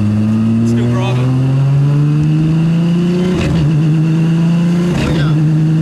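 A tuned Nissan GT-R engine revs loudly while driving in third gear at low RPM, its rising drone steady and close, with sequential gearbox shifts breaking it twice.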